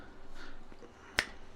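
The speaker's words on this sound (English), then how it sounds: "snaps her fingers, gone." One sharp, crisp finger snap cracks out near the end of an otherwise quiet, faintly murmuring stretch.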